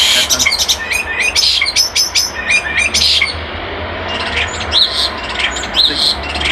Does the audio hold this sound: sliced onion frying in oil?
no